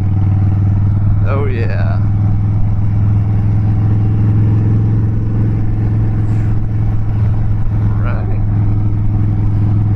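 A Harley-Davidson Dyna Wide Glide with a Twin Cam engine rumbles along at a steady loud low drone while being ridden, wind noise over it, and a rider speaks briefly.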